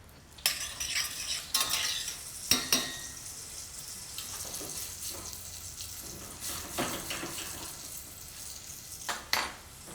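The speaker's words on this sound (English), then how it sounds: "You let it cook until most of the liquid evaporates." Red peppers cook down in a pan as their liquid evaporates, giving a steady soft sizzle broken by several sharp scrapes and clatters of stirring against the pan, with no talking.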